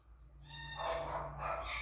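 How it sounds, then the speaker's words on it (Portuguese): A dog barks faintly in the distance, a couple of short, soft yelping barks over a quiet low hum. "ela continua latindo"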